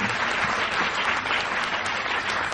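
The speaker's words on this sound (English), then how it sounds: "let's give a round of applause to all the very deserving nominees this evening" Awards ceremony audience applauding the nominees, a dense, steady wash of clapping from a large crowd that holds even and loud throughout.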